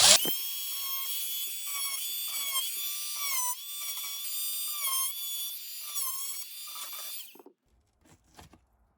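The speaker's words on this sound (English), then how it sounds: "an oscillating tool makes really quick work of digging through drywall" An oscillating multi-tool cutting through drywall in a house wall gives a loud, continuous high-pitched buzzing whine with slight wavering in pitch, close up, until it stops abruptly, followed by a few faint knocks.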